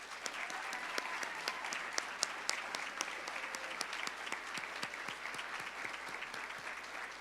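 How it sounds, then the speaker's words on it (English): A ceremony audience applauds graduating nursing students at a university pinning event, a dense, steady patter of many hands clapping that holds evenly throughout at a moderate distance. "Please help me give these students a round of applause"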